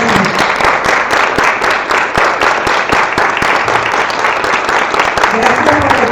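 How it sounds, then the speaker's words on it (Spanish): Dense, steady applause from an audience at an educational panel discussion on project-based learning, loud and sustained with sharp individual claps throughout and no pause. "Un fuerte aplauso."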